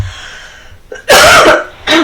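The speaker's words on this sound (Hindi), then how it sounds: "खांस रही हूँ" A woman coughs twice in quick succession, close and loud, after a brief faint throat sound.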